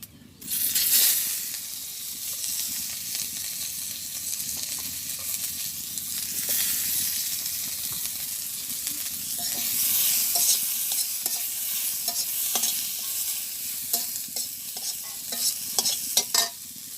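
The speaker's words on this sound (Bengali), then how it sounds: "তো আমি মাছ ভাজি করবো, এর জন্য পেঁয়াজ কুচাই রাখছি, পেঁয়াজটা দিয়ে দিই" Chopped onion sizzles in hot oil while being fried ahead of a fish fry in a village kitchen, a steady close hiss with frequent stirring scrapes and crackles, and no talking.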